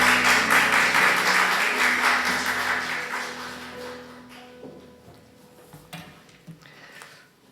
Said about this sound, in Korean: 우리 송 교사님 나오실 때 큰 박수로 맞이해 주시면 좋겠습니다